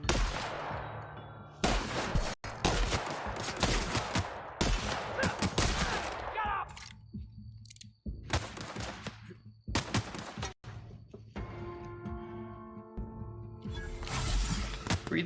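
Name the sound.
shotgun firing in the video game The Outer Worlds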